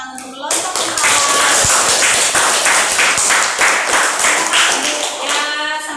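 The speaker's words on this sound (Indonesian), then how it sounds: "kita beri tepuk tangan untuk kelompok" Classroom applause for a student group that has just presented, a dense burst of many hands clapping at close range that runs steadily for several seconds, with voices mixed into the clatter.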